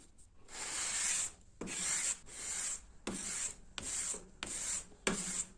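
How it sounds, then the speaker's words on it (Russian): Dry sanding by hand with paper sandpaper, six long rasping strokes in a steady back-and-forth rhythm separated by brief gaps, close and clear with no talk. "Я прям на сухую. Можно, конечно, смочить, но эта бумажная такая наждачка, она размякнет очень быстро."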